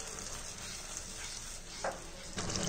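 Spinach (palak) paste for restaurant-style palak paneer fries in a pan with a little water: a dense, steady close sizzle and bubbling hiss, with a couple of brief stirring scrapes toward the end, no voices.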